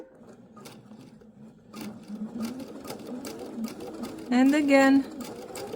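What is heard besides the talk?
sewing machine stitching a faux welt pocket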